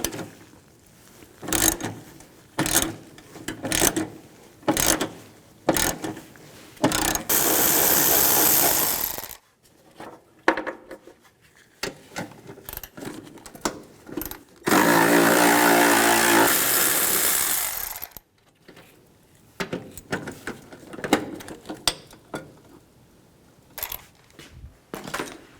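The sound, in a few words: ratchet socket wrench removing battery tray bolts, Ford E-250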